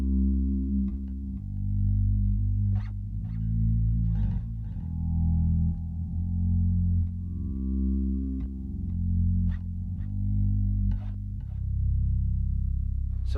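Bass guitar run through a Zoom slow-attack delay pedal used as a swell, notes fading in smoothly with no pick attack, sustained low tones rising and overlapping in a slow, bowed-like phrase, played alone.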